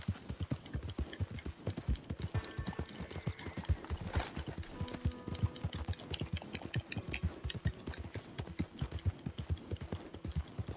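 Horse hooves clip-clopping in Red Dead Redemption 2, a steady rapid rhythm of close, distinct hoof strikes continuing throughout with faint background game sounds.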